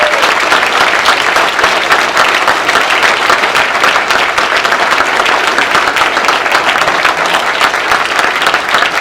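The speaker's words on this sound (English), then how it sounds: "Let's give Clint and his team a big round of applause" A town hall audience in Shasta County bursts into loud, sustained applause, dense clapping from many hands filling the room evenly without a break.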